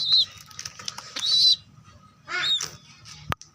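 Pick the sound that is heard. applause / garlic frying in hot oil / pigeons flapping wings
pigeons flapping wings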